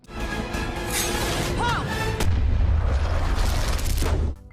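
A loud cannon blast booms amid a dense, roaring soundtrack, followed by a heavy rumbling low end before it cuts off, from an animated film scene.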